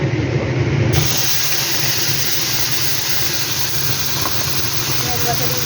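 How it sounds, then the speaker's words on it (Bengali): Onion paste frying in hot oil left in the pan after frying fish, a steady broadband hiss with a louder burst at the start, then an even sizzle throughout. "এই তেলে আমি পেঁয়াজ বাটাটা দিয়ে দেবো।"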